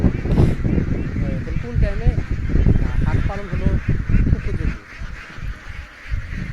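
Around five hundred farm ducks quack and honk together in a busy flock being fed, loud and close, with a person talking over the calls.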